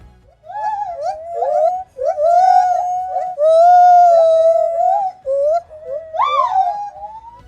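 A male and female gibbon sing a great call duet together: loud, whistle-like hooting phrases that rise and swoop one after another, ending in a sharp upward climb, with no talking over them.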